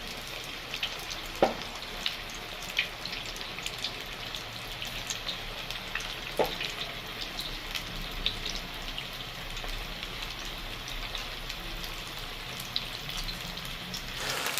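Pakoras frying in hot oil, a steady crackling sizzle with scattered pops and a few sharper clicks over a long stretch.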